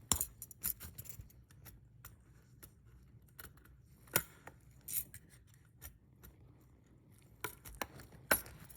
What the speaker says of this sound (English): sometimes you can just get an instrument to pull the material away like this and then just cut the interceptal dam